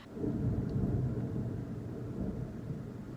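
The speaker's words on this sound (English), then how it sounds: "Can you hear that? That's thunder, by the way" Thunder rolls as a low, sustained rumble over a few seconds during stormy weather in Niigata, Japan, heard at a moderate distance with no voices.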